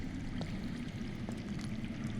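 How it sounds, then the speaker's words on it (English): Water running underground in a Game of Thrones video game, a faint, steady low rush with a few soft splashy accents, heard alone with no voices. "I hear water. From underground."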